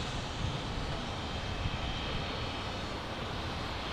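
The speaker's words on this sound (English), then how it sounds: "There I can see the A330 in the distance." Jet aircraft noise at Fort Lauderdale airport, an Airbus A330 in the distance: a steady, broad roar holding at even loudness throughout, with no talk over it.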